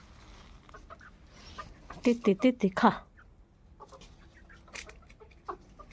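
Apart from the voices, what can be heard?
hens clucking while eating food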